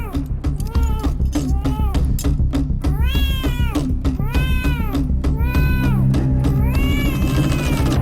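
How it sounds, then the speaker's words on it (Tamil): A cat meows repeatedly and loudly, close up, in drawn-out rising and falling calls, roughly six or seven meows in a row over a steady background hum. "போய் அந்த பூனையை பாரு"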